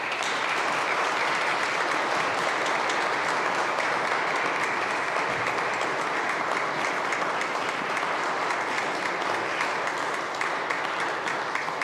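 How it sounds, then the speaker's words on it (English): Sustained applause from a church annual meeting congregation honoring outgoing vestry members, a dense, steady wash of many hands clapping throughout at even volume. "you can receive applause from your peers for the service you've given them"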